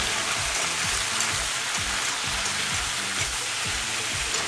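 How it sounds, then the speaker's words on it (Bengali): Potatoes drop into hot spice tempering and fry with a steady, crackling sizzle close by, alongside a faint, rhythmic low hum underneath. "তার মধ্যেই ফোড়ন দিয়ে আলুগুলো দিয়ে দিলাম"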